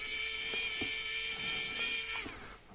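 A small powered screwdriver backs screws out of a Samsung Galaxy A71 phone during a repair, giving a close, steady, high whine with a few faint clicks before it winds down at the end.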